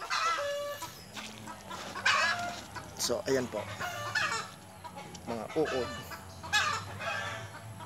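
Pet chickens cluck and call in bursts while being fed worms, close by, with someone speaking intermittently over them.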